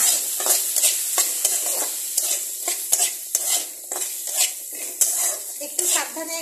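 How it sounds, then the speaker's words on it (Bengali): A spoon scraping and stirring ground coriander and cumin around a cooking pan for a potato dish, with repeated close clinks and sizzling scrapes in a steady rhythm, no voices. "দিয়ে এখন এটাকে নাড়বো।"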